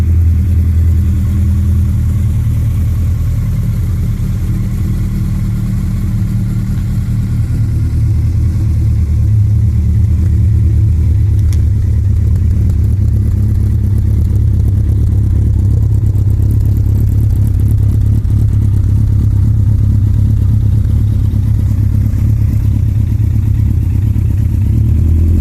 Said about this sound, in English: then we'll have a quick blip of the throttle